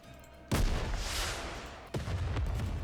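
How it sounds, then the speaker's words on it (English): A rocket launcher shell detonates in Goddess of Victory: Nikke on a snowfield, a sudden heavy boom with a long rumbling tail, then a second blast about a second and a half later. "A shell flies from the rocket launcher, and a resounding explosion causes the entire snowfield to be blanketed in thick plumes of white smoke."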